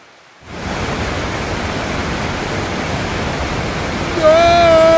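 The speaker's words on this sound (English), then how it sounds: "if you hold that up to your ear, you can hear the ocean" In a cartoon, the ocean sound from a seashell held to the ear rises suddenly into a steady, loud, rushing wash like distant surf, then a brief higher tone cuts in near the end.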